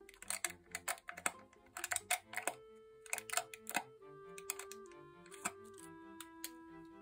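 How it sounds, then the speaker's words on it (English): A pen or pencil pokes holes through tinfoil laid over paper for a constellation craft, making a run of quiet, crisp taps and crinkly clicks in irregular bursts over faint sustained background tones. "take our pen or our pencil and poke the holes carefully through"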